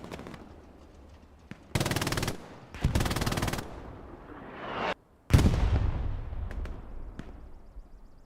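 Bursts of machine gun fire in the Hell Let Loose video game, competitive match on Sainte-Mère-Église with two MG positions: several loud, sustained rapid volleys separated by short gaps, with scattered distant single shots between.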